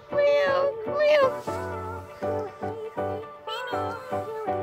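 Several cute cat meows, close and loud, come one after another with short gaps between them, drawn-out at first and then shorter and more clipped.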